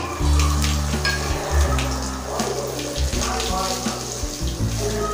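Green chilli and broken dried red chillies dropped into hot oil for a pumpkin sambar crackle and sizzle loudly and steadily close by, with bursts of spluttering throughout.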